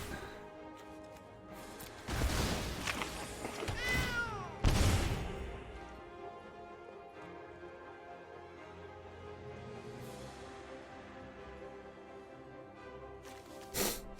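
A cat familiar card in MTG Arena gives short meows, the loudest at the start, one around the middle and one near the end, over continuous game music.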